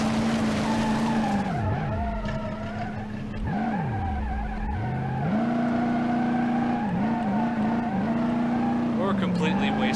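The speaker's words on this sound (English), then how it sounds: "You can't beat on a big old wagon and slide it around and do donuts." A big old wagon in BeamNG.drive slides around doing donuts, its engine revving up and down in wavering tones while the tires squeal and skid almost continuously, loud and close.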